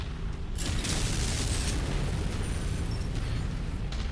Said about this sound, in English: Ammo explosion, maybe?